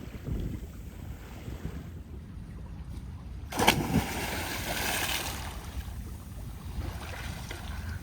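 Light wind while sailing a boat off the Costa Brava near Barcelona, a steady low rumble of wind buffeting the microphone with soft water wash and a brief louder gust midway, no voices.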